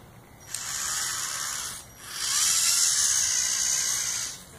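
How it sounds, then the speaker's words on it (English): Tiny 180 electric motors in an upgraded Maisto rock crawler whine at high pitch in two bursts, a short first run then a longer, louder second one, with a brief pause between. "So these 180 motors,"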